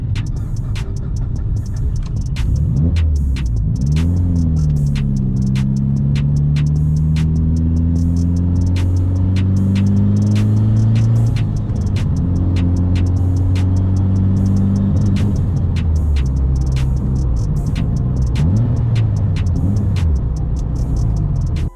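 A struggling car engine that keeps blowing its ignition fuse runs rough, with a loud, steady low drone whose pitch wavers and surges, overlaid by regular sharp ticking clicks throughout.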